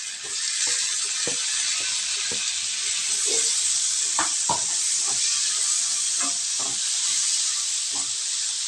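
Onion dropped into a pan of golden-brown fried garlic gives a steady, close sizzle of hot oil, with scattered clicks and scrapes of stirring throughout and no talking.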